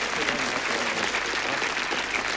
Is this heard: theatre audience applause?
yes